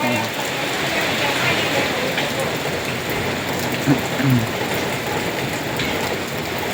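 Heavy rain pours steadily in a sudden storm in Nakhon Phanom, Thailand, with strong wind gusting through papaya trees, a loud continuous wash close by, and brief voice sounds partway through.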